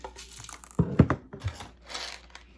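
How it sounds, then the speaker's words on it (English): Aluminum foil crinkles and crumples over the top of a homemade bean shaker filled with beans or rice, a close, irregular burst of rustling with a few sharper crunches in the middle, fading to softer crackles. "we will get our aluminum foil and just stick it right on top, like so"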